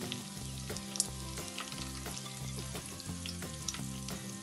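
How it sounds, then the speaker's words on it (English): Bay leaves and star anise sauté in hot oil for coriander rice, a steady close sizzle with a few sharp crackles and pops and a faint rhythmic undertone, no voices. "Saute everything. I am adding 2 bay leaves, 1 star anise,"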